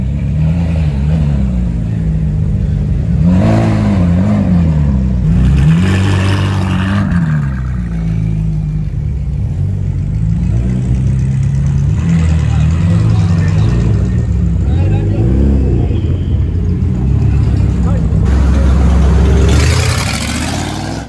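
An Aston Martin V8 engine revs and drones loudly for the whole stretch, its pitch rising and falling in repeated swells, while people talk over it.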